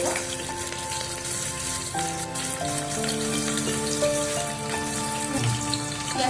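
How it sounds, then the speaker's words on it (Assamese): Chopped onions frying in hot oil for an egg biryani, a steady sizzle with faint crackle running continuously at moderate loudness beneath tonal background music. "এতিয়া ইয়াত মই কাটি লোৱা পিঁয়াজখিনি দিছোঁ।"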